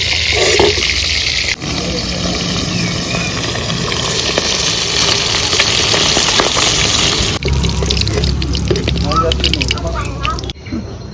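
Bacha fish fry in hot oil with a steady, close, broadband sizzle that continues throughout, broken by a few brief clatters as pieces are moved, while a person talks over it.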